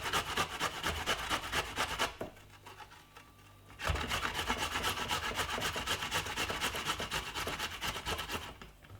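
A piece of ginger rubbed on a grater gives fast rhythmic rasping strokes, close and clear, with a short pause in the middle before the scraping resumes.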